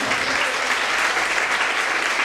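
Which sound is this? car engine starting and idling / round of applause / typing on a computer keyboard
round of applause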